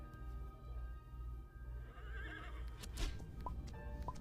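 A horse in the video game Horse Life whinnies over steady game background sound, with a short bright call near the end and light hoof-like clopping.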